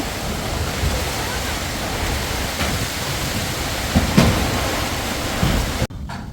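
Steady, loud hiss of heavy rain falling without a break during a village storm, with a few soft knocks as mangoes fall from a tree, ending abruptly near the end.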